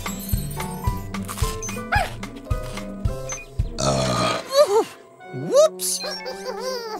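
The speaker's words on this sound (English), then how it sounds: "That was a big burp" A cartoon burp in a children's animated show, one loud, drawn-out belch with wobbling pitch following a bouncy jingle-like musical intro and a short squeaky exclamation.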